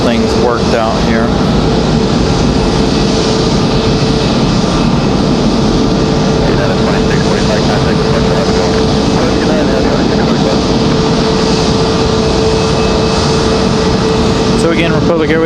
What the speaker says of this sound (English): Republic Airways 4618 coming in from LaGuardia.